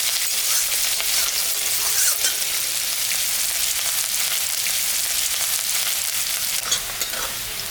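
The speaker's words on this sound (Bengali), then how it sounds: "পেঁয়াজটা ভাজা ভাজা হয়ে গেছে" Onions frying in a little oil in a pan used before for frying rohu fish, giving a loud, dense, continuous hiss with occasional stirring scrapes, no voices.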